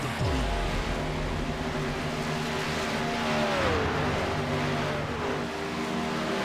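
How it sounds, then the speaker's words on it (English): A NASCAR truck in the iRacing sim at Daytona holds steady engine drone with harmonic whine, the pitch dipping and swelling as it revs through burnouts, loud and continuous throughout. "He's doing burnouts."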